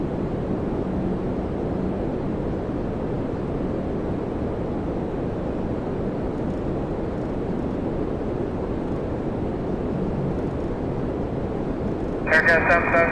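A United airliner takes off from runway 24 right at Toronto Pearson, heard as a steady, broad, distant jet roar throughout. A brief burst of radio-like tones comes near the end.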